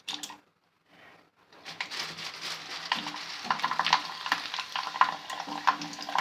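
Food sizzles and crackles as it fries in hot oil, a busy, steady hiss that swells after a quiet start, with faint stirring and dripping sounds mixed in.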